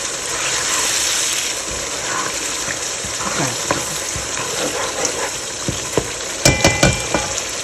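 Chicken karahi masala fries and sizzles steadily in a wok, with a spoon or ladle scraping and clattering against the metal as it is stirred, and a burst of sharper knocks near the end.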